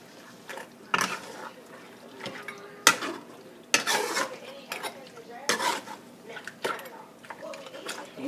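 Haitian legume with tomato paste stirred in a pot, with repeated irregular clanks and scrapes of a spoon against metal over a faint simmer.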